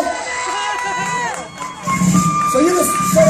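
Crowd cheering and shouting as a surprise is revealed at a birthday celebration, the noise swelling louder partway through with excited voices mixed in.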